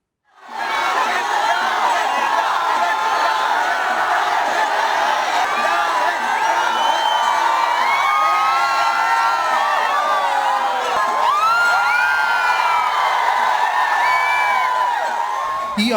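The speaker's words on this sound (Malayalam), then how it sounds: "ഈ ആർപ്പുവിളി തൃശൂർക്കാരുടെ അഭിമാനം ഏകഛത്രാധിപതി തെച്ചിക്കോട്ടുകാവ് രാമചന്ദ്രൻ നെയ്തലക്കാവമ്മയുടെ തിടമ്പേറ്റി വന്നപ്പോഴുള്ള ആരവമാണ്" A huge festival crowd roars in front of Vadakkunnathan temple at Thrissur Pooram as the elephant Thechikottukavu Ramachandran arrives bearing the Naithalakkavu deity's thidambu; dense, loud cheering, whoops and whistles sustain without a break throughout.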